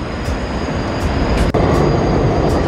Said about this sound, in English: There's the N train on its way to 59th and Lexington.